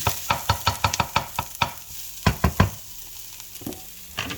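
Garlic and onions sautéing in a pan while a dried-fish dish with alugbati and camote tops is being prepared: a rapid run of sharp scraping stirs up close, then a few more strokes after a quieter sizzling pause.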